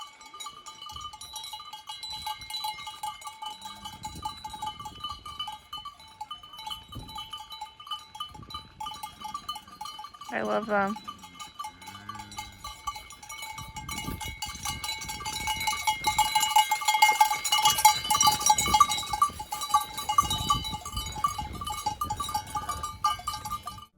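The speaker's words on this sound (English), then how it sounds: "We just stood there as the cows ran around us." Herd of cows wearing cowbells on a Dolomites mountain pasture in fall, the bells clanking steadily and growing busier as the animals move close by, with a brief spoken remark.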